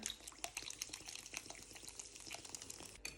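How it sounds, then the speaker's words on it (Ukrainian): Liquid pours steadily with a bright, fizzy crackle of bubbles throughout, close by and fairly quiet, with no talking. "Тепер сюди додаємо газовану мінеральну воду."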